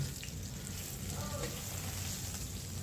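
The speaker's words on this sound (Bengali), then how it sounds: "একটু ভেজে নিলাম" Cut potato frying in oil in a pan, a steady close sizzle with soft crackling throughout, moderately loud and uninterrupted.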